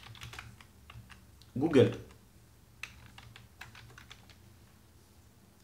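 Keystrokes on a computer keyboard come as scattered clicks while a web address is being typed, with one louder burst partway through and a voice speaking briefly over the typing.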